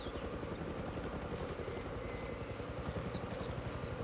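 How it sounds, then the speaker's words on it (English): Helicopter in the video game Far Cry 6, a steady, dense rotor chop droning continuously at moderate loudness with no clear talk over it. "Where is that helicopter anyway?"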